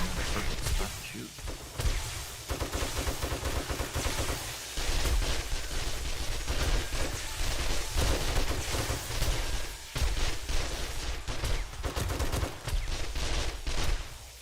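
Rapid gunfire in the zombie survival game 7 Days to Die, with bursts of shots cracking repeatedly over a busy, loud game mix while a voice talks intermittently underneath.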